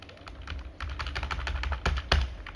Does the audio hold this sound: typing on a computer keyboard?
yes